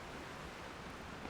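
Waterfall in the video game Zelda: Tears of the Kingdom, a steady, dense rushing roar of falling water, continuous and even throughout with no talk.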